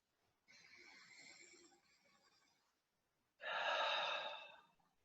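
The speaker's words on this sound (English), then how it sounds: "And take a deep breath." A person takes a deep breath during a guided joy exercise: a long, soft inhale, a short pause, then a louder, rushing exhale, close and alone with no talking.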